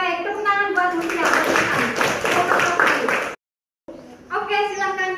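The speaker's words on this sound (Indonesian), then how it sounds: "Tepuk tangan buat Mutia." Classroom applause, a group of students clapping hands together for a classmate, dense and steady for about three seconds, then a brief gap, with speech and a voice before and after the clapping.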